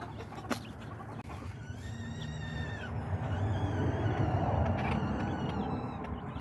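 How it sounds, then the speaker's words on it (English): A hen screams in distress in a run of harsh, strained squawks, with other clucking fowl and farmyard noise around it, nearby. "He's got my hen screaming."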